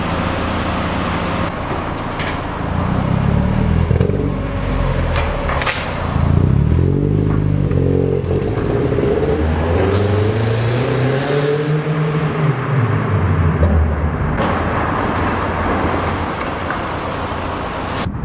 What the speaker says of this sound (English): after certain revs the car kicks in fine and accelerates as normal